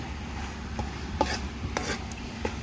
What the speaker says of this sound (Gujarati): અને પરફેક્ટ હલાવી લઈશું ભાતને